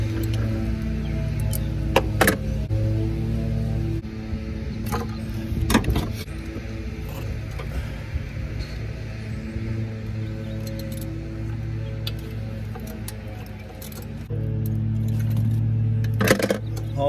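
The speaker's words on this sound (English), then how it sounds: "10 millimeter wobble socket, 8 inch extension, a ratchet." A ratchet driving a 10 mm wobble socket on an 8-inch extension breaks loose bolts on a Honda Element, giving a steady mechanical clicking with scattered metallic clinks and knocks, fairly close, with no talk.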